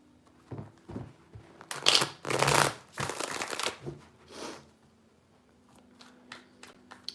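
Tarot cards are shuffled by hand in a few quick riffling bursts at close range, the sharp flurries tapering into softer, scattered card taps.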